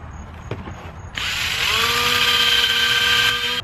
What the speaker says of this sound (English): wet this pad, wet your surface, and go ahead and polish it just like we did the others